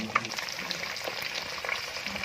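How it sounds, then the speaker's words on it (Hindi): Fish fries in ghee over a normal medium flame, giving a soft, steady close sizzle with faint crackles and light handling noises, with no speech. "फ़िश को फ्राई करने के लिए घी में डाल दिया गया है"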